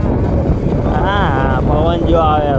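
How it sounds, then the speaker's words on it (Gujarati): Loud, blustery cold wind roaring into the microphone at Saputara hill station, with a voice speaking over the rumble. "ફૂલ ઠંડો પવન આવે"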